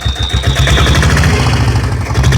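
A vehicle engine at a cattle and horse market runs loud and close, the throttle raised in a throbbing, sustained rev with a pulsing low rumble and no talk.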